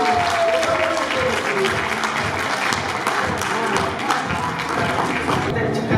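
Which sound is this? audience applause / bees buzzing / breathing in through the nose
audience applause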